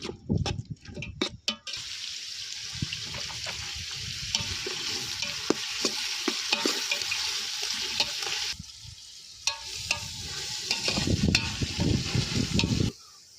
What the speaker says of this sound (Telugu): 5 నిమిషాలు ఉల్లిపాయలు ఎర్రగా వేయించుకోవాలి.